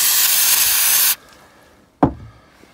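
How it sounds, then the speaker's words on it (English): A spray can of throttle body cleaner hisses in one loud continuous burst for about a second while cleaning the throttle body on a Dodge Caravan. The burst cuts off sharply, and a single knock follows a moment later. "This spray is pretty inexpensive because you don't use a whole lot of it."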